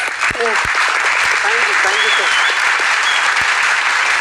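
Steady, dense audience applause for contestant Dhanraj on the Bigg Boss reality show stage, loud and continuous throughout, with a few brief voices faintly under the clapping.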